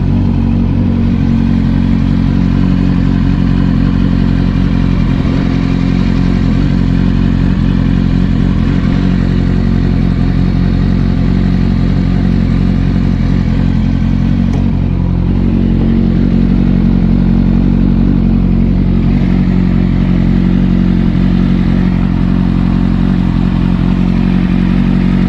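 Kawasaki ZX10R sport bike, freshly rebuilt fuel pump, idles with a steady low engine drone and light mechanical clatter, loud and close, holding an even rumble for about 25 seconds with no talk.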